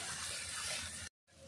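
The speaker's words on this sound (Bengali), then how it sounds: "মশলা ভালো করে ভেজে নিয়েছি" Ground spices with salt and turmeric fry in oil in a pan for a pangas fish curry, a brief steady sizzle that cuts out, then a faint return with a small clatter.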